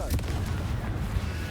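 A Confringo fire spell explodes in the Hogwarts Legacy video game, a short, dull, booming blast with a rumbling tail, heard up close and alone.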